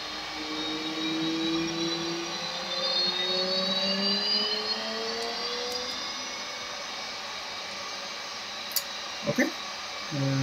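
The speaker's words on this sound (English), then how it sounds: "Now you see the engine spooling up" Jet engine of a Hornet aircraft spooling up, a loud steady roar with rising whining tones that climb and then level off, with a few brief clicks near the end.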